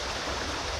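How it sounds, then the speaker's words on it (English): Water runs in Beaver Creek as a steady, close, fairly loud rushing hiss that holds even and unbroken for the whole short stretch, with no voices. "Just the sound of the water running is so relaxing."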